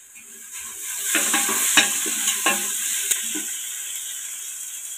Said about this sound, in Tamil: அஞ்சு நிமிஷம் வதக்கட்டும்.